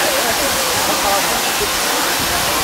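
Ranipauwa waterfall in Nuwakot roars as a steady, loud broadband rush of falling water, continuous and close with no break.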